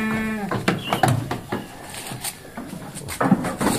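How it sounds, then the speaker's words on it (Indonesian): PE (Peranakan Etawa) goat in a pen, a loud close bleat at the start followed by scattered thumps, rustles and knocks, with another short bleat-like cry near the end. "Senduro jantan dengan indukan kambing PE Jrabang"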